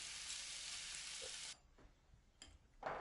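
Chicken browning in a pan without oil, a steady loud sizzle for about a second and a half that then cuts off, leaving a quiet room with a few light clinks.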